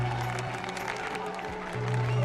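A crowd applauds steadily in a movie scene, a dense wash of clapping that swells slightly toward the end, with some voices mixed underneath.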